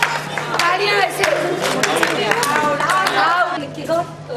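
A group claps together over lively crowd chatter and children's voices, with quick, uneven hand claps that stay fairly loud and close throughout.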